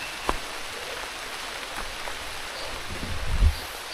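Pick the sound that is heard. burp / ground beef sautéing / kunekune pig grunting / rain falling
rain falling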